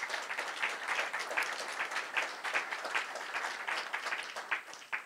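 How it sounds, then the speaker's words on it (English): Steady applause from a luncheon audience at a chamber of commerce event, clapping for school district employees; dense, continuous and moderately distant, with no speech. "If you guys could clap for them, I would appreciate it."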